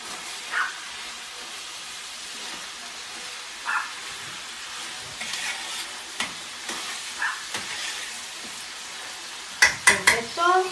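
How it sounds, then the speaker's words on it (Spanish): Tomato and other paella valenciana ingredients fry in a pan with a steady, quiet sizzle, broken by occasional stirring scrapes and a few sharper clinks near the end. "Ya está friendo bastante bien, se me ha cogido el puntito"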